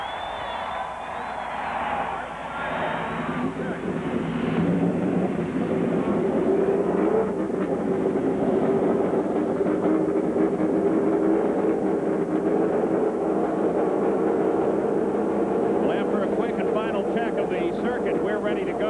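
Indy race car engines firing up together on the grid at Texas Motor Speedway during a 1997 Indy Racing League 500k event, a dense sustained roar of many engines with crowd and announcer talk underneath.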